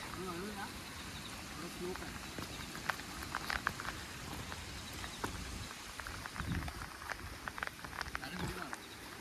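Rain patters steadily in the background on a hill-fort trek near Matheran, Maharashtra, while people talk nearby, a soft continuous wash of drops under the voices.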